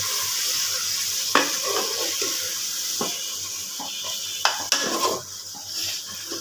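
Dried fish and eggplant sizzle and fry steadily in a pan, with sharp metallic scrapes and clinks of stirring at irregular moments over the continuous frying hiss.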